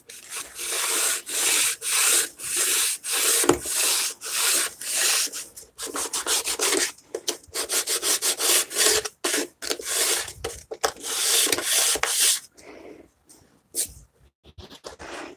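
Sandpaper rasps back and forth along the inside vertical edge of a wooden cabinet door in steady rhythmic strokes, close and fairly loud, with quicker shorter strokes later before it tapers off.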